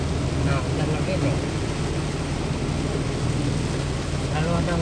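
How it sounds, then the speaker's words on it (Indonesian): Rain falling on a car during a road trip, a steady hissing wash of rain and road noise under a low engine rumble inside the vehicle, with a voice talking briefly over it. "Lalu ada hujan dalam perjalanan."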